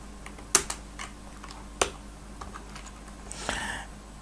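Someone types code on a computer keyboard, giving a short run of light, uneven key clicks with a couple of louder taps, close by over a faint steady hum and with no voices.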